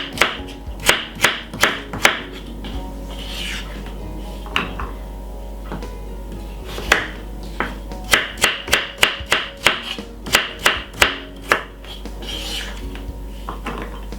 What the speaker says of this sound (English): I'm cutting up the carrot very small also